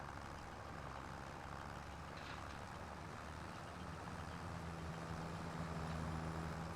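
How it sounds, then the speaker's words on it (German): Tractor exhaust in the Farming Simulator 25 video game, a steady low engine drone running throughout with a faint rise in loudness toward the end, heard alone without talk. "Soundprobe vom Auspuff."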